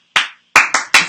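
Crisp, distinct handclaps from fans at a Dodgers baseball game: one clap, a pause, then three quick claps in a rhythmic cheer pattern, close and loud with no talking.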